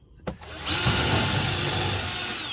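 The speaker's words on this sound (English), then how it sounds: "So I'm going to just drill" A power drill starts with a sharp click, then whirs steadily and loudly as it bores a hole into a boat paddle aboard a sailboat, sustained for a couple of seconds.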